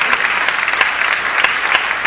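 An audience claps steadily in a continuous round of applause, dense and fairly close, with no break in the sound.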